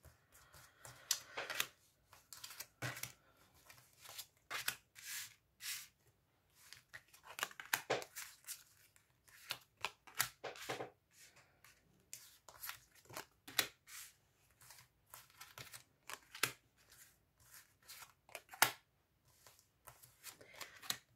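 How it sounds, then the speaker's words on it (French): Tarot cards are spread out across a table, producing a run of soft papery slides, flicks and rustles in irregular bursts with quiet gaps between them, close and faint, with no talking. "je vais étaler les cartes et on va aller faire le tirage"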